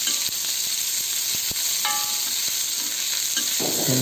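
Onions fry in oil for oats dosa, a steady close sizzle with occasional clinks and scrapes of a spoon stirring them in the pan.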